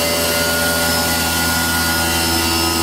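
A Citizen M32 CNC Swiss-type lathe runs its spindle at about 3,500 RPM, a loud, close, steady machine whine with a constant hum and no pauses or voices.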